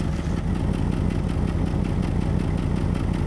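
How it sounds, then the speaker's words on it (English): A Ford Mustang Cobra, rescued after sitting abandoned for 27 years, idles with a steady low rumble, even and continuous at close range, with no voices. "Listen how smooth this thing's idle now."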